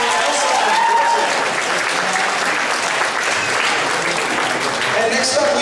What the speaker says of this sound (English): Big round of applause for Elsa and Frozen.